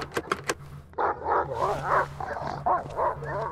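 A dog in the Silent Hill video game barks several times in quick sharp bursts, then gives longer whining, yelping cries, loud and close over a steady low hum.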